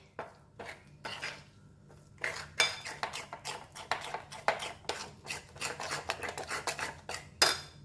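A utensil scrapes and clinks steadily against a bowl in quick, repeated strokes, close up with no talking, while water is slowly mixed into onion ring batter.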